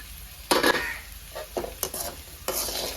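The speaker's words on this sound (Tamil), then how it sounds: "இப்போ இந்த சாதத்தை இதில் சேர்த்துருவோம்" Rice stirred together with fried potatoes in a hot pan for potato and egg fried rice, giving a close sizzle with a few quick scraping bursts of the spatula against the pan and no voices.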